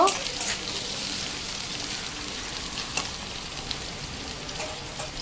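Hot oil sizzles steadily in a pan for a mourala fish kadhai charchori as it is stirred, a dense frying hiss with a few soft scrapes, close and even throughout.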